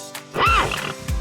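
A single horse neigh, a loud, close whinny with a rising and falling pitch that lasts about a quarter second, followed by a brief snort.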